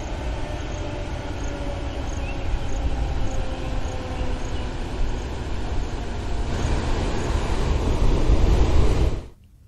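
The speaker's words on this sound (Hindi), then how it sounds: "अरपा भैंसाछार बैराज से पानी छोड़ा गया है" Water released from the Arpa Bhainsachhar barrage during continuous monsoon rain rushes in a loud, steady roar that stays broadband and constant throughout, swelling slightly before cutting off abruptly near the end; no voices.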